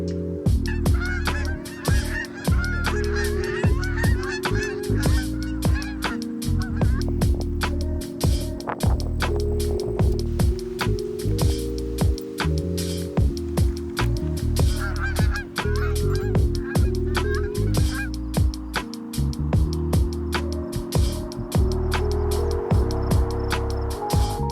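Geese honk loudly and continuously at close range on the grounds of a blueberry farm in Wawa, calls overlapping in a busy flock chorus over a steady low hum.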